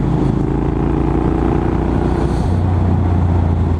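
A Triumph Scrambler 900 motorcycle rides along a road with a loud, steady engine drone and throbbing exhaust rumble, close up with wind noise, the tone shifting lower partway through as the gear or revs change.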